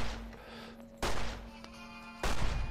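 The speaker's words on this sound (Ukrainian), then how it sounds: "Нормально, Джоні стріляє, слухай, з цього револьвера." Revolver gunshots in Fallout New Vegas, two loud sharp blasts about a second apart, each ringing out briefly over a steady low game hum.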